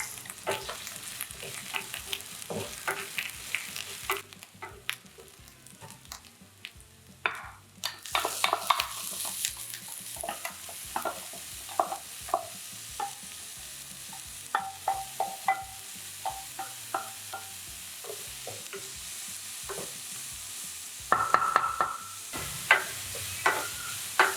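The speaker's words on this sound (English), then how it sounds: "First up, saute the chopped shallots and carrots." Chopped shallots and carrots sauteing in a pan for tofu cakes, a steady sizzle broken by frequent scraping stirs and light clinks of utensil against the pan, fairly close, with no talking.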